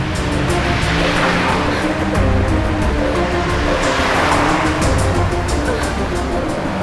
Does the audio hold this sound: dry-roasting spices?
no